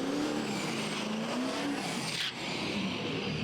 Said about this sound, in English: it's a Duramax diesel engine. It's compound turbo. So it's a V8 diesel engine, which is pretty unique when it comes to drag racing